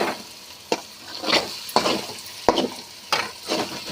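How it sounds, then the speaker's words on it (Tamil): Ginger garlic paste frying in oil in a pan while cooking a kurma, a steady loud sizzle broken by repeated scraping stirs of a spoon roughly every half second to second, close up with no talk. "ஆனால் எண்ணெயில் பொரிஞ்சால் தான் நல்லாயிருக்கும் இஞ்சி பூண்டு."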